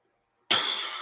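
A single harsh, loud cough erupts after a moment of silence from a person with ten broken ribs, its breathy rasp trailing on to the end.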